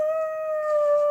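A voice holds one long, steady howl imitating a puppy dog, close and clear with no other sound.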